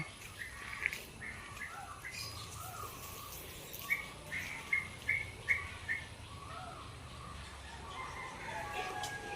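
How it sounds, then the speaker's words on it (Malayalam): Birds and crows chirp and call outdoors in the rainy season, a few sharp tweets standing out over a soft background hum, fairly distant and intermittent. "നിറയെ കിളികളും കാക്കോളൊക്കെ വന്നിക്കണതേ"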